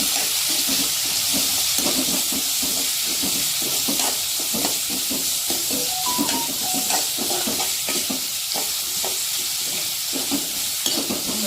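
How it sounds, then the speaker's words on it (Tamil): Mustard seeds, cumin, sesame, chana dal, peanuts, asafoetida and curry leaves sizzle and crackle steadily in hot oil in a pan, with a continuous dense frying hiss and light stirring scrapes throughout. "கடுகு, ஜீரகம், எள்ளு, கடலைப்பருப்பு, அப்புறம் வேர்க்கடலை, பெருங்காயம் எல்லாம் சேர்ந்து பாருங்கள், கருவேப்பிலை எல்லாம் சேர்ந்து வதங்குது"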